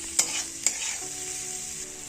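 Moong dal being stirred and dry-roasted in a pan for a Bengali-style vegetable khichuri, with a steady soft sizzle and two sharp scrapes of the spoon early on, close and alone.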